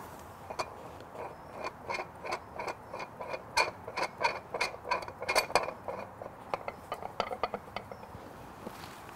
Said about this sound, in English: You can engage it, and then you can start twisting it to hold the mount in place.